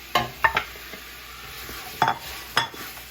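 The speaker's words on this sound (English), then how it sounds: "I'm going to put my meat back in now." Meat goes back into a stew pot with onions for a cucuzza squash stew, giving a few sharp clattering stirs and scrapes against the pot over a faint background sizzle, spaced out in short bursts.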